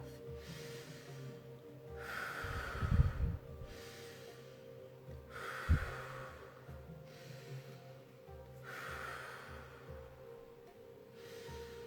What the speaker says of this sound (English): keeping that in through the nose, out through the mouth